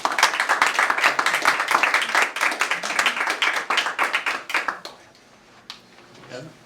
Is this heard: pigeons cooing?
no